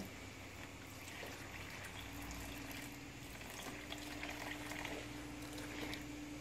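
Water is poured into bread dough in a home kitchen, making a faint, steady trickle and splash that runs continuously over a low hum of background noise.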